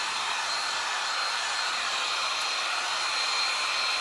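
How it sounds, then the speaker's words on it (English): A big hair dryer blows loudly and steadily on a coat of chalk paste, a constant close-up whoosh with no talking. "I'm gonna dry this with my dryer"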